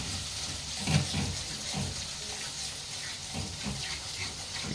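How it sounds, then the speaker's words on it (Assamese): Mutton liver frying with onion, ginger and garlic sizzles softly and steadily, with a few faint stirring scrapes and knocks rising above the constant hiss. "এতিয়া এইখিনি অলপ আপোনাৰ পিঁয়াজৰ গোন্ধটো আৰু আদা নহৰু চেণ্টটো যোৱাৰ কাৰণে অলপ ভাজিব লাগিব অলপ সময়।"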